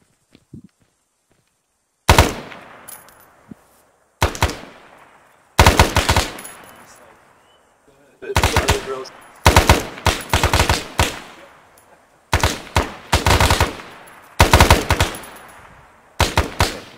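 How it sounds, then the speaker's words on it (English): Controlled full-auto bursts from a rifle in a tactical shooter video game, eight loud, sharp rapid-fire bursts of about a second each, separated by short silences. "And we'll switch to full auto. And we'll take a few controlled full auto bursts"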